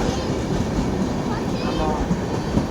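Express train rumbling past with steady broadband roar and faint rail clatter, close and continuous throughout, with people talking over it.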